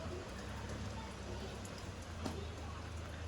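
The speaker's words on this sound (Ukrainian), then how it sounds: "Дощ, гроза, гром." Steady rain in a thunderstorm hisses in a constant broadband wash, with a faint patter of drops close by and no voices.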